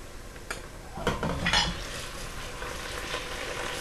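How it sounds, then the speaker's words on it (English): Meat, onions and tomatoes sizzling in a pot while a utensil stirs and scrapes, giving a few clinks and scraping strokes over a steady, moderate frying hiss, with no talking. "Stir it well."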